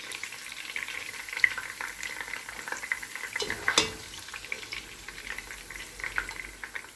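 Almonds and raisins frying in hot oil for chicken mandi, giving a steady soft crackle with a few sharper pops, close and even, with no voices.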